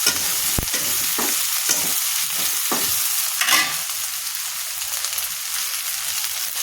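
Chopped vegetables frying in a pan for a Bengali katla fish curry with ridge gourd, a steady loud sizzle with a few clinks and scrapes of stirring, close by.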